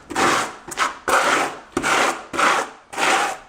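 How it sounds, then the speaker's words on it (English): Thinset mortar is spread with a V-notch trowel in five or six loud, close, gritty scraping strokes, each about half a second long, with brief gaps between them. "I'm just going to thread some thinset here."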